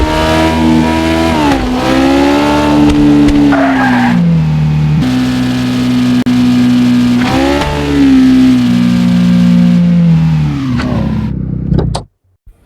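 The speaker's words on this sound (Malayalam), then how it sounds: "ഈ ഒരു വണ്ടിയുടെ സൗണ്ട്" A car engine in a mobile GTA-style video game revs loudly with rising and falling pitch sweeps as it accelerates and shifts, with short tire squeals and skids, continuous and up front before cutting off sharply.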